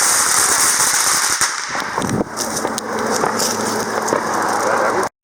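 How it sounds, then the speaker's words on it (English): Fireworks going off at a consumer fireworks outing, with a bottle rocket among them: sharp crackling bangs and loud bursts over continuous hiss and rumble, with people talking throughout. "that was an explosion."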